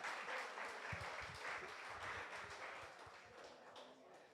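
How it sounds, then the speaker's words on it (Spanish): A church congregation applauds a 97-year-old woman with steady, moderately loud clapping that stays even throughout, with a low murmur of voices underneath. "Démosle un aplauso a la muñeca"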